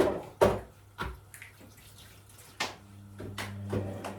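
Tap water runs softly while something is washed, with a few louder splashes and clatters and a low steady hum in the background. No one speaks.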